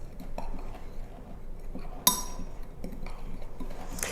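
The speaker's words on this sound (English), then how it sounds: "You just give it a mix." Metal utensils and dishware clink while homemade taco and ranch seasoning is mixed in a kitchen, soft scattered taps with one sharp, bright ring of metal on glass midway, then lighter clicks.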